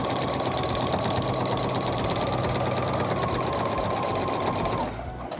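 A sewing machine fitted with a walking foot stitches quilting lines in a steady, continuous mechanical whir that runs for most of the time, then cuts off shortly before the end.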